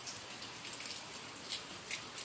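Light rain begins falling outdoors in a village, a faint, steady hiss of drops with occasional soft patters, with no voices.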